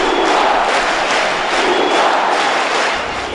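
A baseball stadium crowd roars for Barack Obama and Raul Castro, a loud, dense, sustained wash of cheering voices heard alone.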